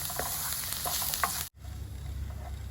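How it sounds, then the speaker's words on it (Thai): Garlic sizzles steadily in hot oil in a wok, a dense crackling hiss that cuts off abruptly halfway, leaving a low rumbling background. "ตั้งกระทะใส่น้ำมัน เอากระเทียมลงไปผัดเนาะ"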